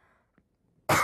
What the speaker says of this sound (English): I'm sorry, I've got a cough.